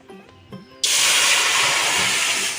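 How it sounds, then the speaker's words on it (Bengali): Water poured into a hot kadai for boiling potatoes hits the metal with a sudden loud, sustained sizzling hiss that follows a few quiet kitchen clinks and carries on steadily to the end. "কড়াতে জল দিয়ে দিয়েছি"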